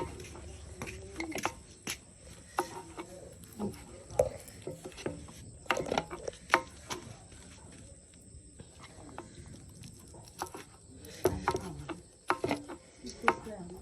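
A knife slices and chops ingredients for Thai jaew dip, a roasted termite-style relish, in scattered irregular cuts and taps close by, with soft outdoor ambience and insect chirps behind, no talking over it.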